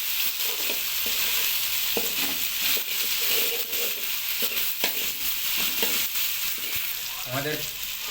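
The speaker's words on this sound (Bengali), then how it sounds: "হালকা আদা রসুন আর টমেটোটাকে মিক্স করে একটু নেড়ে নিতে হবে।" Tomato and ginger-garlic paste stir-frying in a pan for chicken kasha, a steady close sizzle punctuated by repeated spatula scrapes and stirs.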